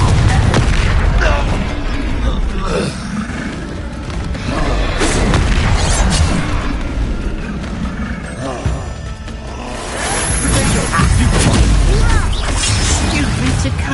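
In a video game, a Confringo blasting curse explodes in a loud, sustained rumble of booming blasts and crashing debris, with roaring bursts that surge and fade over several seconds.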